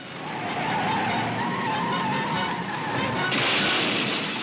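A cartoon vehicle driven at full speed skids loudly, with a sustained squealing screech over engine roar and a brief harsh burst near the end.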